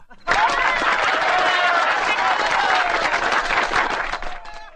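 A crowd audience bursts into loud, dense clapping that starts abruptly, holds strong for about four seconds, then cuts off, with a faint murmur of voices underneath.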